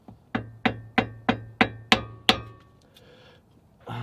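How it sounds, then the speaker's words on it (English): Hammer striking to drive out a ball joint on a 2011-2016 Scion tC, seven sharp, evenly spaced metallic blows close up, followed by a quiet pause. "so it's not working with the wood, so we're just gonna hammer it out"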